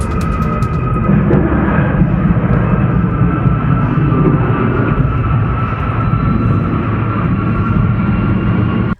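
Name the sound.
NASA WB-57 research aircraft landing without landing gear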